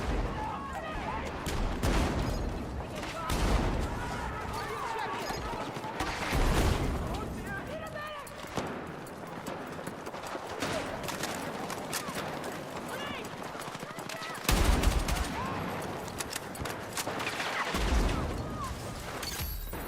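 Repeated bursts of SC553R rifle fire in Battlefield 6 mixed with distant battle noise and other gunshots, steady and moderate, with people talking over much of it.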